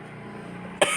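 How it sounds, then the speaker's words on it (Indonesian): A single sharp cough bursts out at the end after a brief stretch of quiet room tone during a Quran recitation lesson, close and fairly loud. "Mohon maaf agak batuk ya."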